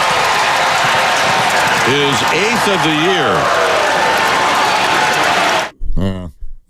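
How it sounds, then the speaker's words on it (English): A baseball crowd at a Giants–Royals game roars steadily after a home run hammered over the right-field fence, a dense, loud wash of cheering with a brief voice over it before it cuts off and talk resumes near the end. "A lot of cheering going on for that."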